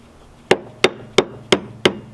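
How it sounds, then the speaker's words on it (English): Hammer blows drive an outboard engine out of a boat transom sealed in with polyurethane sealant: five sharp, loud, close strikes spaced about a third of a second apart, with no talking. "I'm going to try to push this out by hammering it out"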